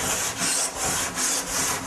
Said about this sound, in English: we're going to just keep sanding, going with the grain